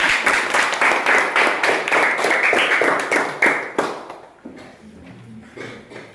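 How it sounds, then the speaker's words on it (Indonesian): Pupils in a classroom clap together in a loud, rhythmic unison beat for several seconds, then the clapping stops abruptly and gives way to quieter room noise and a voice. "kita berikan tepuk tangan untuk diri kita masing-masing"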